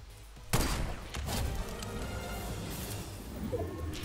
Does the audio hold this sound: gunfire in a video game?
yes